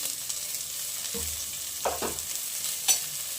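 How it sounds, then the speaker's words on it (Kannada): Onion, curry leaves and green chillies frying in a pan for ridge gourd palya, a steady soft sizzle with a few louder spoon stirs and scrapes, no talking. "ಈರುಳ್ಳಿ ಮತ್ತು ಕರಿಬೇವು ಮೆಣಸಿನ್ಕಾಯಿ ಹಾಕ್ಕೊಂಡು ಫ್ರೈ ಮಾಡೋಣ"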